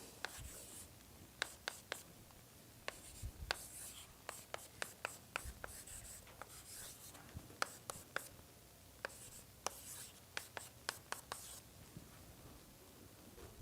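Chalk or marker strokes on a board during a university lecture on partial differential equations, a long series of sharp, irregular taps and short scrapes, fairly close, with faint room noise between them and no talk.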